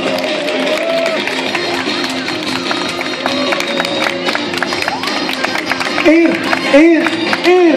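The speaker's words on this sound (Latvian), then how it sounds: "Tieši tā aplaudējam dalībniekiem, kuri tuvojās finišu līnijiem." Spectators clap and cheer for children on bicycles nearing the finish line of a youth cycling marathon race in Cēsis. The applause is steady and sits under crowd chatter and voices, and a person speaks near the end.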